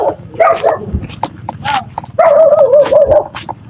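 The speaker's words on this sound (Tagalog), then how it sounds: "May aso? Walang problema yung aso." A dog barks in short bursts and whines with high, wavering whimpers close up, loud and agitated.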